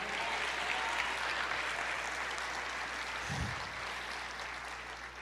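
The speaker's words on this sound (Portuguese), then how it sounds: "Aplauda o Senhor" Church congregation applauding, a dense continuous wash of clapping from many hands that holds steady for several seconds with a low hum beneath.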